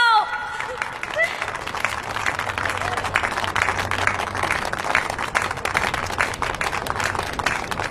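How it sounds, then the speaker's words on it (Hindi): Clapping applause from a group, dense and continuous for several seconds at a fairly loud level, with crowd murmur and a brief voice at the start. "ताली बजाओ।"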